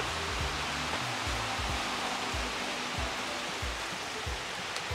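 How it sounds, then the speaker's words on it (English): Steady rain falls outdoors at a nature retreat, a constant soft hiss with no voices. "You can sit there and watch rain."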